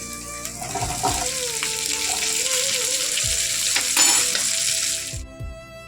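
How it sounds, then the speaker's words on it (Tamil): Ginger and garlic sauté in a pan for mutton pepper masala, giving a loud, steady, close sizzle with a few soft knocks before the sizzle cuts off near the end. "இஞ்சி, பூண்டு போட்டு நல்லா வதக்கிக்கலாம்"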